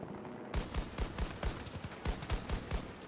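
Rapid single shots from an M39 EMR marksman rifle in Battlefield 2042 crack out in a steady rhythm of about ten close, loud reports over continuous battlefield din.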